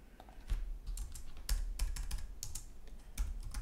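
Code being typed into a Python editor on a computer keyboard, an irregular patter of close, clicky keystrokes in short bursts with no talking.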